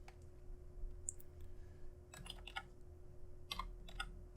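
Quiet typing on a computer keyboard, a few scattered clicks and then short clustered bursts of keystrokes, soft and close over a low steady hum.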